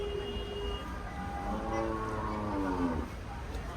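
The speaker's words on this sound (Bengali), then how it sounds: "দেখতেই পাচ্ছেন সাদা রঙের গরু, খুবই চমৎকার বড় সাইজের গরুগুলা" Large white cattle at Dhaka's Gabtoli cattle market give a drawn-out low moo that swells midway through, set against a steady murmur of market noise.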